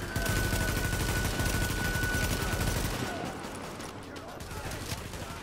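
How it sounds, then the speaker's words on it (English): Automatic gunfire in a The Division firefight, dense rapid shots rattling continuously before easing into sparser bursts, with a voice talking underneath. "Put the suppressing fire on him."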